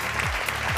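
Rhythmic hand clapping at a lively gathering, quick steady claps in a short burst, with low droning tones and chatter mixed underneath.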